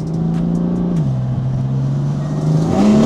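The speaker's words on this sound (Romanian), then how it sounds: "Ne-am oprit puțin ca să vă arăt și cum se aude mașina de la exterior" BMW M4 engine with a new exhaust, heard from outside the car, giving a loud, steady deep drone that dips and rises again as the revs change.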